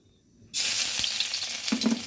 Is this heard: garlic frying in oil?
yes